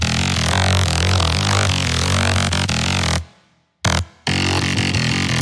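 Wavetable bass synth made in FL Studio, played dry without Trash 2 distortion: a loud, dense, buzzy bass line with steady notes that cuts out abruptly near the end, a short burst returning before the sound resumes.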